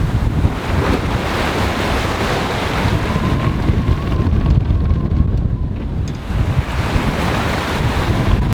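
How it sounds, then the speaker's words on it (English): Strong wind roars steadily at sea aboard a sailboat crossing the Atlantic, gusting to around 30 knots, with waves and surf washing constantly beneath the loud, unbroken wind noise; no one speaks. "The wind's picked up to about 30 knots."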